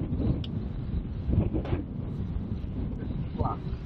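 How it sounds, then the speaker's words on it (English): Gusts of wind on a golf course at The Point, Polzeath, buffet the microphone with low rumbling bursts, fairly loud and uneven, while someone talks faintly. "It's very windy."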